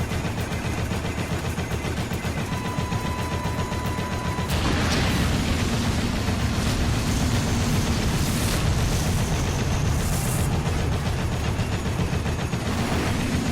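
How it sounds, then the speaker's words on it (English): Missiles exploding in the Xbox One game Dead Rising: a constant rumbling barrage of heavy blasts and rapid gunfire, loud and dense, swelling into a stronger burst partway through and staying busy to the end. "Oh no, more missiles"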